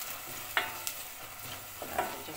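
Onions sauté with a pepper and tomato paste mixture in a pot, giving a quiet low sizzle marked by a few sharp spoon taps and scrapes. The sounds are close but soft, and no one speaks.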